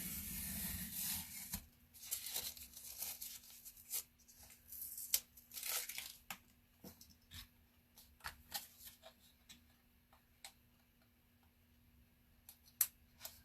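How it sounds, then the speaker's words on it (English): Tape is peeled off a wooden round in quiet, close, intermittent bursts of tearing and crinkling, with scattered soft rubs and ticks between the pulls. "We're just gonna move our tape off of here."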